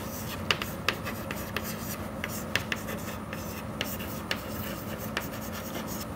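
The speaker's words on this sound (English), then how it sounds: "We will write," Pen or chalk writing by hand during a lesson on magnification and resolution, a steady scratchy rubbing with sharper strokes and taps every second or so, fairly faint and steady, with no voice.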